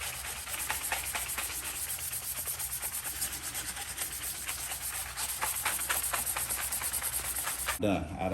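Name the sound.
sanding motorcycle fairings before painting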